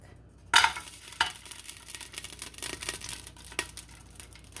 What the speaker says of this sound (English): So now I'm gonna add some garlic.